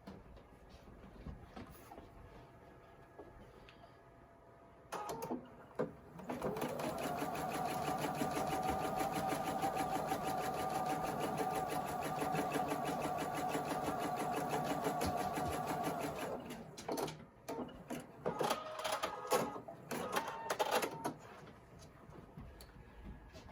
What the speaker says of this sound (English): I'm going to stitch 1/4 inch up the seam to join